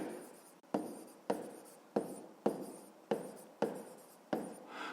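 A pen writing numbers on paper during a fifth-grade maths exercise, producing eight quick, sharp scratchy strokes at a regular rhythm, close and fairly quiet, with no talking.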